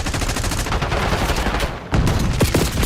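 Rapid automatic gunfire in a combat video game, dense bursts of shots continuing with no pause, loud and close, with a brief dip before the firing resumes heavily.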